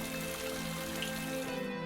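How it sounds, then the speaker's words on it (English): Steady rain hisses softly and evenly, fairly faint, with a low tonal hum running underneath. "a big downpour whisked away the paper boat"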